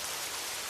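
Steady rain falls with an even, dense hiss in a short stretch, continuous and fairly soft, with no voices or other sounds breaking through.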